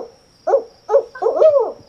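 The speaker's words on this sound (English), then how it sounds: "a barred owl called" A barred owl hoots close and clear outdoors: two short hoots, then a longer, rising-and-falling hooting phrase, with a faint steady background tone.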